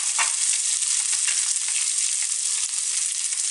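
Cabbage sizzling hard in hot oil with red chili and curry leaves, a steady loud bright hiss of frying with no pauses, close up and alone.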